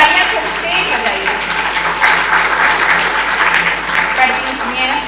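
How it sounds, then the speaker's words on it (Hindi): An audience at a Hindi poetry recital claps loudly and steadily for about five seconds, a dense wall of applause with voices mixed in. "और तालियां खूब तेज बजाइए"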